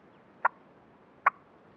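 A hunter works a turkey mouth call held against the roof of the mouth to imitate a hen, producing two sharp, separate clucks nearly a second apart over a quiet background.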